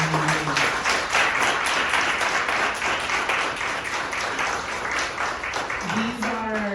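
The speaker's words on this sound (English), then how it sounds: "do a big group round of applause for all" A large crowd applauds award honorees at a Women's History Month awards ceremony, dense sustained clapping over the whole stretch with some crowd voices mixed in, and a brief voice rising near the end.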